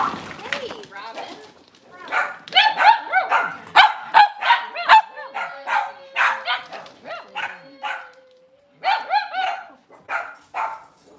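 Cavalier King Charles Spaniel puppies and dogs barking and yipping in a busy home, a loud chaotic run of repeated barks and whimpers, with people talking among them.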